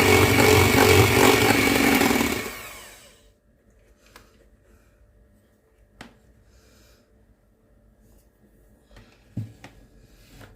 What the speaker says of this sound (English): I'm going to whisk up the egg whites.